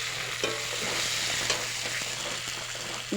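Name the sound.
bitter gourd and potato frying in a pan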